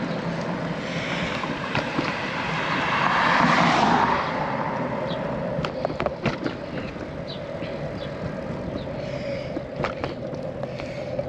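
A bicycle rolls across a bridge with a steady rumbling hum of tyres and wind rush, a swell of noise midway and scattered ticks and clacks from the road surface, no voices.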